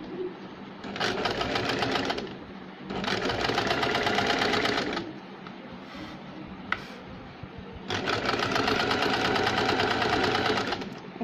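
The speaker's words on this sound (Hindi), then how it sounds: "सीधी सिलाई लगाते जाएंगे।" A sewing machine runs close by, stitching a fall onto a saree in three sustained bursts of rapid mechanical whirring, separated by short quiet pauses with faint handling clicks.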